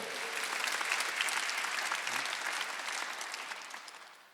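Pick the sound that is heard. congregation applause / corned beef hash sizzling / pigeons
congregation applause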